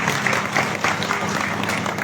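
An audience at a political rally in Kotkhai, Himachal Pradesh claps, a steady dense patter of applause lasting throughout with a faint murmur of crowd noise.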